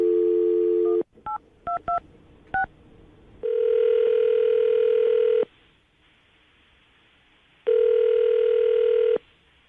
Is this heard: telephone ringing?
yes